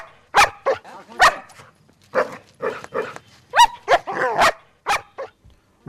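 A dog barks repeatedly in loud, close bursts with uneven gaps, some barks rising into yelping, whining tones, heard without other sounds.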